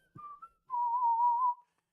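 A person whistles a short tune alone in quiet surroundings: a brief note, a pause, then one long wavering whistled tone.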